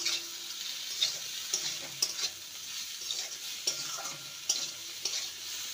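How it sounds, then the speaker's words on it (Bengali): Bitter gourd and potatoes fry in a pan under a lid, giving a soft, steady sizzle broken by light scraping and clinking as the vegetables are stirred every second or so. "আবারও ঢাকা দিয়ে উচ্ছে আর করলা আর আলুকে ভেজে নেব।"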